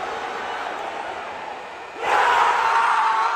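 Celtics fans roar throughout a packed basketball arena, a dense sustained crowd noise that surges noticeably louder about two-thirds of the way through and stays at full volume to the end.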